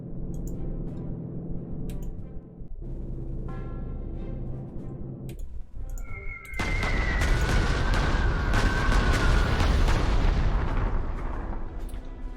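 A fighter aircraft strafing attack in the Panzer Corps World War II strategy video game: a low engine drone gives way to a loud, sustained roar of gunfire and explosions.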